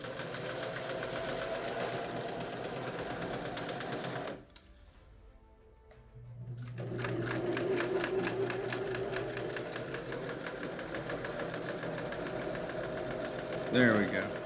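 A sewing machine stitches a fabric face mask in a steady mechanical whir, pausing briefly in the middle before running again, with a person talking over it.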